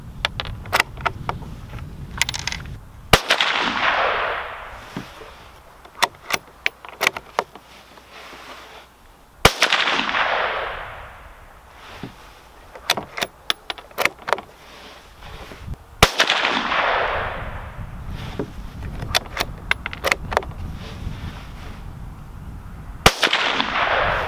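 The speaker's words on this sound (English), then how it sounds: "I set up two targets, I might as well shoot them both." Shots from a Savage B22 Magnum FV rifle ring out outdoors as loud sharp cracks: three big reports spaced several seconds apart, each followed by a decaying echo, among many smaller clicks and pops.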